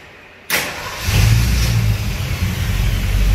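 A 1965 Ford Mustang engine cranks and fires, then settles into a steady, loud idle with a low rumble that runs to the end, with no voices.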